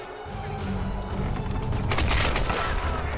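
In the Tomb Raider video game on PS3, gunfire lands a headshot, a dense burst of loud shots over a low rumbling game backdrop, peaking sharply near the middle.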